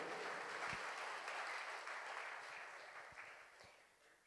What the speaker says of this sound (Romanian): Aplauze pentru ea!